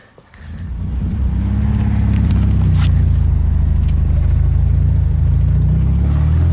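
A VW Beetle with a repaired bent hockey stick sets off on its first trip. The air-cooled engine rises from a quiet start into a loud, steady close drone as the car pulls away.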